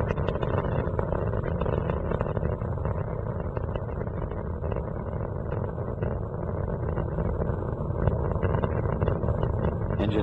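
Space Shuttle Atlantis (STS-115) lifting off from Kennedy Space Center, its engines throttling back up past maximum dynamic pressure: a steady, dense rumbling roar that holds level and unbroken throughout, distant and muffled.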